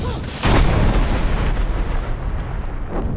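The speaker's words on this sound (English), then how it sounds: "Ready the cannon!" A cannon fires in Dungeon Siege III with one heavy, loud boom, then a long rolling rumble that lingers and slowly fades.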